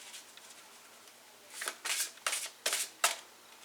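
Tarot and oracle cards, including the Druid Craft Tarot, Energy Oracle and Angel Answers Oracle decks, shuffled by hand in several quick riffling bursts after a quiet start, close and crisp.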